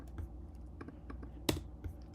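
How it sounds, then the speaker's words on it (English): Keys pressed on a computer keyboard used to play melodies in a Pure Data patch, a few soft scattered clicks with one sharper, louder keystroke midway, close and quiet, with no talking. "It's just so I can use my computer keyboard to play."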